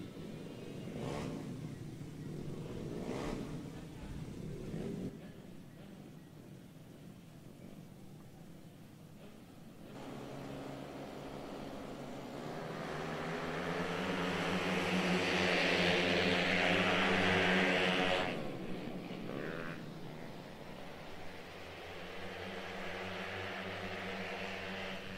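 Racing 130cc automatic scooter-class motorcycles on the Gery Mang circuit in Subang, West Java, give a rising, whining engine note that swells as the bikes pass close, then fades back into a steady distant drone.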